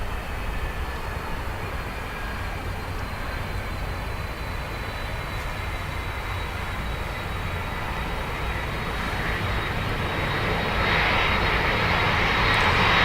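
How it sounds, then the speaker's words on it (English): An Airbus A330 airliner arriving at Dublin Airport from LAX, its engines a strong continuous roar with a high whine, growing louder and brighter toward the end as it draws near. "This 330 just came in from LAX."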